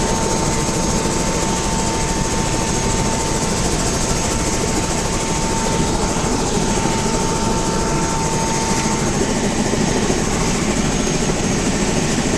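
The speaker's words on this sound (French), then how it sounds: "Il y a 3 hélicoptères qui vont partir en même temps." A helicopter engine roars loudly and steadily throughout, with a constant whine on top and no pauses, at the Grand Canyon.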